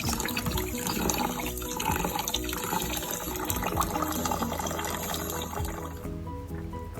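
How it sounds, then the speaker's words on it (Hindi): Water running steadily from a tap into a vessel for soaking and rinsing mixed lentils, including masoor dal, in a home kitchen, a continuous close pouring rush that thins slightly near the end. "एक घंटा भिगोने के बाद इसको 2-3 दफ़ा और पानी से धो लें।"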